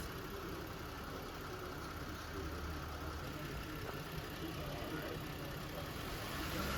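Steady idle of a car engine during EVAP system diagnostic testing, a low continuous hum with faint rhythmic knocking, with no notable change over the clip.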